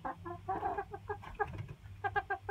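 Chickens cluck and murmur close by in a backyard coop, a quick string of short, throaty calls over a soft steady background hum, with no speech.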